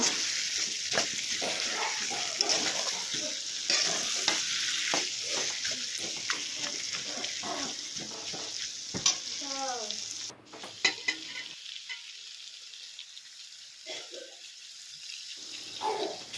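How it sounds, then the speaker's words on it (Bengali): Spiced fried potatoes sizzle steadily in a pan while being stirred, with scraping strokes over a constant frying hiss. Partway through, the sizzle thins and quiets. "আলুগুলো ভেজে তারপর মশলাগুলো দিয়ে এখন বসিয়ে দেওয়া হলো। দেখো, মশলা সাতলানো হয়ে গেল আলুগুলোর সাথে।"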